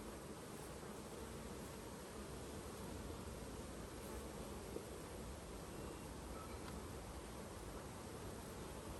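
Bees buzz continuously as a dense, steady hum around a hive while swarm frames are worked, faint and even with no talking.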